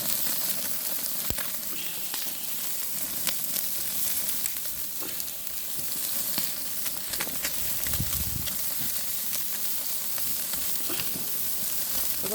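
Shrimp sizzling and frying in a pan, a steady hiss running throughout with occasional crackles and a few clinks of utensils, fairly close and with no talk over it.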